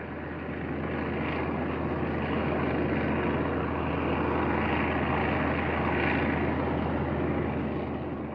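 Formations of Japanese bomber and fighter aircraft in flight, a dense continuous engine drone with a steady low hum, loud and unbroken for the whole stretch.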